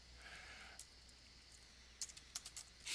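Keyboard typing into a chat box, a few quick clicks and taps scattered over the last second, faint and close, with a soft hiss between keystrokes and no talking.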